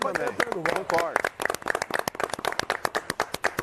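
A voice speaks briefly, then a few people clap by hand in an irregular, moderately loud patter that continues to the end.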